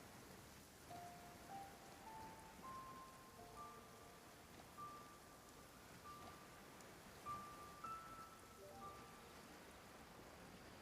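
Soft, steady rainfall in the video game Genshin Impact patters faintly and continuously, with quiet musical tones drifting above the hiss.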